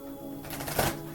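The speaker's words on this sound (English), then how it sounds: "I'm shuffling up the fairies now to see what kind of confirmation they're going to send me in." Fairy oracle cards being shuffled by hand, a quick burst of crisp papery riffling that swells and fades within about a second.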